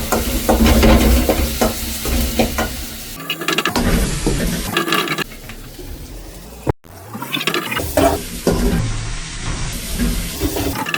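Prawns for a bachelor-style prawn thokku sizzling loudly in a pan while being stirred, a dense hiss with scraping bursts, briefly interrupted partway through.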